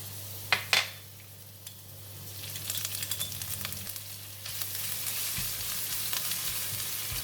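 Garlic and ginger dropped into hot onion oil, with a couple of sharp clacks and then a rising crackling sizzle that settles into steady frying over a low hum, with occasional utensil scrapes and no voices.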